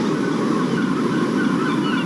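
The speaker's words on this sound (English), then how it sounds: "Birds." Dense flock of birds calling by the ocean, a busy honking, goose-like chatter over a constant broad wash of surf, loud and close for a couple of seconds.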